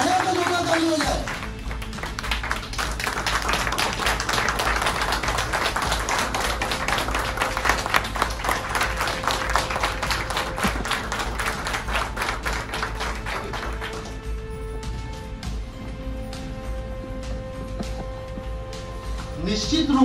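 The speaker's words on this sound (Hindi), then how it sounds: "एक बार खड़े होकर जोरदार ताली हो जाए।" An audience stands and applauds loudly at a company event in a hall, dense sustained clapping filling the room for most of the stretch before thinning near the end, with some voices mixed in.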